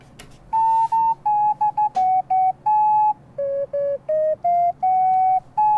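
A synthesized ocarina voice, made in a Jupyter notebook, plays a Finnish folk tune as a steady run of pure, whistle-like notes of varying length, close and clean with no voices over it.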